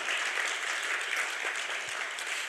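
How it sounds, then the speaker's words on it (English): Audience applause after a speaker introduces someone, a steady sustained wash of many hands clapping throughout, moderately distant and even in level with no talk over it. "Please give him a big round of applause"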